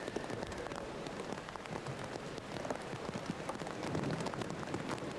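Rain falls steadily and grows heavier over an outdoor show jumping arena at the European Jumping Championships in San Patrignano, Italy, a dense continuous patter with faint hoof sounds beneath.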